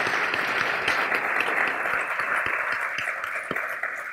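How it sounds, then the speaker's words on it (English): Applause from an audience at a ribbon cutting for the OCTC Industry Innovation Center, a steady wash of clapping that carries evenly for a few seconds and then begins to taper. "let's give him another round of applause"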